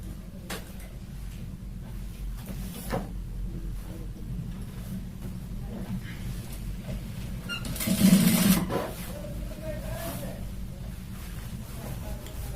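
A sewing machine hums steadily while stitching about an inch of seam along the zipper edge of a pant fly, with a louder clatter partway through and a person talking over it.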